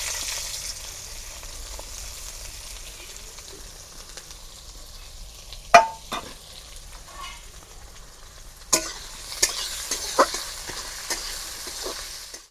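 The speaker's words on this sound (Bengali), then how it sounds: "পেঁয়াজটা আমার ভাজা হয়ে গেছে, লাল লাল হয়ে গেছে" Medium-sized onions frying in oil with bay leaf, cinnamon, cloves and cardamom in a pan for a village-style fish curry, a steady soft sizzle with a few sharp clicks and stirring knocks near the middle and end.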